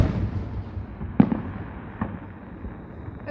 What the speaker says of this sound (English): 4 minutes of straight fireworks so far.